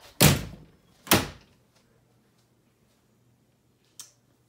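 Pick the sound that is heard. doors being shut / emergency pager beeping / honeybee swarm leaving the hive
doors being shut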